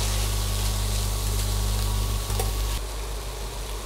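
Turmeric, coriander-cumin powder, red chili and salt sautéing in a pan for brown rice pulao, a loud, steady close sizzle with faint stirring scrapes, easing slightly near the end.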